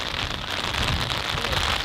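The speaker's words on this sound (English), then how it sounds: "Let's get out of the rain." Steady rain patters and hisses outdoors during a deer hunt, a dense, even wash of sound with no voices.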